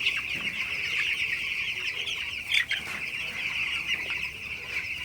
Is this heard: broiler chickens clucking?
yes